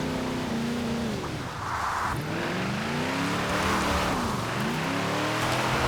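Stock 1973 Ford XB Falcon GT drifting in the Forza Horizon 4 racing game, its engine droning and swooping in pitch with revving surges and tire scrub, steady and fairly loud throughout.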